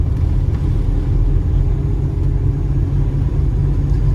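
A car cruising on a highway between St. George and Mesquite gives a loud, steady low rumble of engine and road noise that stays unbroken and close throughout.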